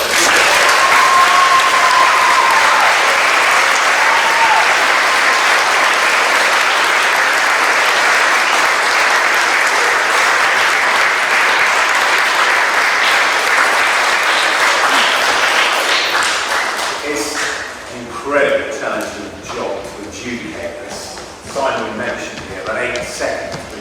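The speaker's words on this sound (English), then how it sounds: "we can have a big round of applause" An audience at a school poetry finals event gives a big round of applause, dense and sustained for about fifteen seconds before thinning into scattered claps as talk starts up.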